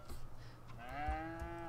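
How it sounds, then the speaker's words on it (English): A cow lets out a single drawn-out moo while being milked on a farm in The Sims 3, clear and fairly close over a low background hum. "So, let's watch her milk a cow."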